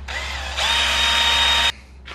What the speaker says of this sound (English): drill some holes into one of these pieces of plastic here.